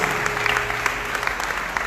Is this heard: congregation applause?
yes